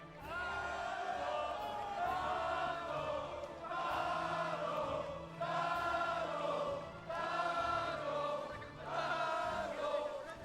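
A crowd at the Red Bull Wololo Age of Empires esports tournament in 2024 shouts in four rhythmic bursts, like a chant, loud and full-bodied, with short pauses between the bursts.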